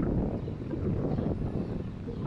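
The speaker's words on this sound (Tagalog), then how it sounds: "sobrang hangin" Strong wind roars and buffets continuously at the 22nd floor of a high-rise near the sea, a dense broadband rush with steady gusting and no pause throughout.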